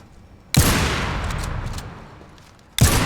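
Gunfire in the video game Warface comes as two sharp, loud bursts, the first trailing off into a long rumbling decay before the second hits near the end, with no talking.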